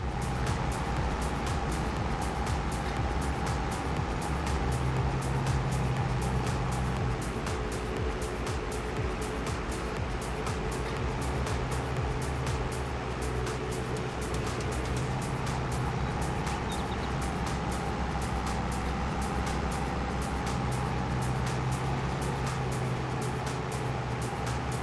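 Tractor driving in a farming video game, a steady droning engine hum with low rumble lasting the whole stretch, constant and fairly loud with faint clicking texture on top.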